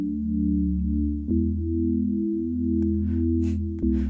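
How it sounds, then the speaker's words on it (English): A steady, smooth low sine-wave synthesizer oscillator tone holds throughout with a couple of soft clicks and slight shifts in pitch, close and fairly loud. "all we hear is actually this A oscillator, which is a sine wave"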